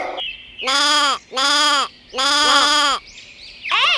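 Three loud, close goat bleats in a row, each a drawn-out wavering cry about half a second apart, heard in a children's alphabet nursery rhyme, followed by the start of a fourth call.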